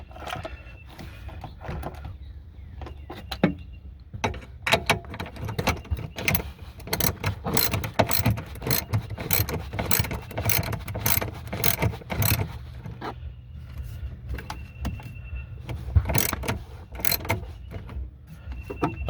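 A ratchet snugs a 10mm bolt back into place on a second-generation Toyota Prius battery, giving repeated close clicking bursts in irregular runs with a low background hum.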